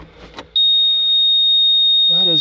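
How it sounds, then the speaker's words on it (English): A piece of equipment emits a very loud, sustained, piercing warning buzzer tone that sounds nonstop after a brief moment of speech. "That has got the loudest buzzer beeper thingy on it."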